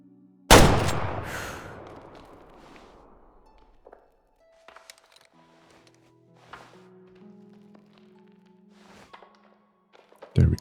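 A single loud rifle shot rings out during a hunt in the video game Way of the Hunter, a sharp blast followed by a long decaying echo, then quiet ambience with faint game noises and a brief voice.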